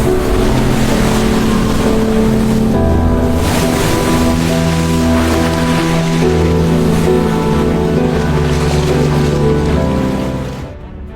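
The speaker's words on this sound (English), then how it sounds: "the water from the reservoir gushes out" A loud, continuous rush of reservoir water surging out after an explosion roars for the whole stretch, with a steady tonal hum beneath, before easing off at the end.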